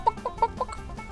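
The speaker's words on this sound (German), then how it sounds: "lauf, Huhn. Lauf, Katerhuhn." Chicken clucks from the video game Neverwinter, a short run of about four quick, fairly faint clucks in a row with no talk.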